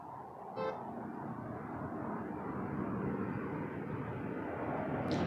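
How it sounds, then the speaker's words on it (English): Air Canada Airbus A330-300 jet airliner at Toronto Pearson Airport, a steady broadband jet roar holding throughout at a moderate distance, with a brief horn-like toot near the start. "Air Canada A330 300 to Frankfurt, flight 840."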